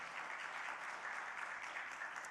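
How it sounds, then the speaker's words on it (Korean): A church congregation at a Sunday morning service in Daegu claps together in a steady, even patter of applause, heard from a distance and fairly soft. "우리 박수 한번 하겠습니다."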